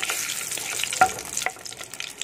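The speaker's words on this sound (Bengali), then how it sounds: "এখানে আমি জিরাটা দিয়ে একটুখানি নেড়ে চেড়ে নেবো।" Cumin seeds and dried chilies crackle and sizzle in hot oil for Bengali-style matar ghugni, a steady close hiss with a spoon scraping and one clear clink of utensil against the pan midway.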